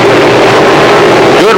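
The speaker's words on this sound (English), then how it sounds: "Wheel to wheel with the 55 of Bill Nepper into turn number 1" Limited late model stock cars race wheel to wheel into a turn on an oval track, a loud, continuous engine roar dominating with a rising pitch sweep at the end.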